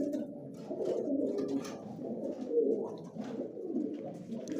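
About thirty white pigeons kept inside a room coo softly and continuously, their low, murmuring calls overlapping in a close, muffled chorus with no talking.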